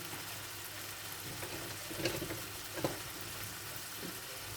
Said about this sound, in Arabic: هنايا غادي نديرو الروز يتحمر شويه